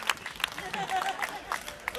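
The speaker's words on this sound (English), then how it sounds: "So give them a big round of applause" A crowd claps and cheers for a cruise company during a live show aboard The Rock Boat, a quick scattered patter of hands mixed with crowd murmur and brief voices.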